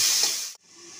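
Pumpkin greens with salt and turmeric frying in a pan give a bright, close hiss that cuts off sharply partway through, as if a lid drops over the pan, leaving a muffled, quieter sizzle.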